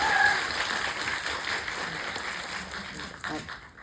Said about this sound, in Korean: 그거 원하시면 박수